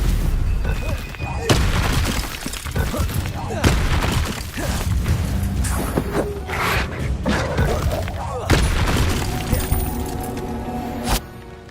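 Spell effects from Hogwarts Legacy combat: a string of loud magical blasts, cracks and booms bursting one after another over a dense rumbling bed, with a voice calling out during the fight.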